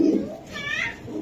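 A racer pigeon coos close by, one short soft warbling call over faint background voices.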